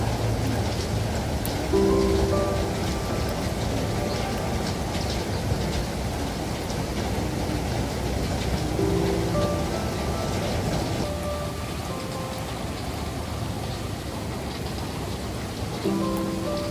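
Heavy rain falls steadily and loudly on surfaces as a dense, continuous hiss across the whole stretch, close by, with no talking.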